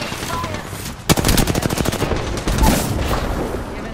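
Rapid automatic gunfire in the Apex Legends video game, a loud sustained burst of fast evenly spaced shots lasting several seconds after a quieter lead-in.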